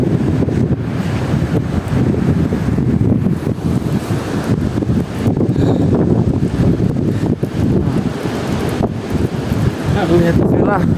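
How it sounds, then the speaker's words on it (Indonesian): Strong gusting wind buffets the microphone near the summit of Mount Sumbing, a steady loud roar throughout in thick fog, with faint voices briefly underneath. "Angin kencang juga."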